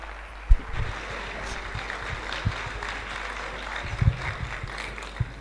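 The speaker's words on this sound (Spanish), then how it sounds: "Un fuerte aplauso." Audience applause closing a school institutional ceremony, a moderate wash of clapping with a few sharp bumps and clatters, heard from within the hall over a low room hum.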